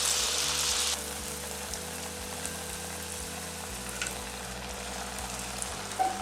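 Malpura pitha batter frying in hot oil, a steady soft sizzle and crackle running close and continuous with no talking.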